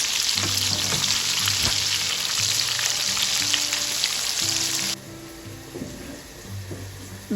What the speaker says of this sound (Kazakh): Оны осылай майға пісіреміз.